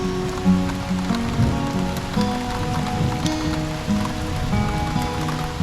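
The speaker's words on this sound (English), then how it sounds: "today the rain is heavier than I've ever seen it" Heavy rain falls steadily on a surface outdoors in summer, a dense continuous wash of drops with scattered louder splats, close and fairly loud, no voices.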